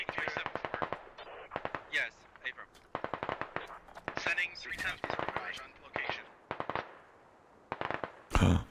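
Gunfire in the SquadOps video game during a one-life operation called Icy Wraith, rapid automatic bursts in quick repeated volleys with short pauses, loud and close, a sharp blast at the end.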